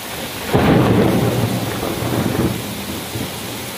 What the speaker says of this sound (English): we're having a storm in Bangkok this morning